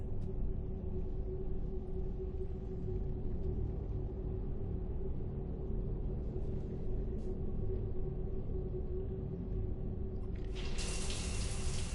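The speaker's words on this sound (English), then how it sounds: "I figured you'd be more interested in a shower." Shower water runs in the video game Mass Effect 3, a continuous hissing stream with a low rumble underneath, steady throughout and growing brighter and louder near the end, with no talking.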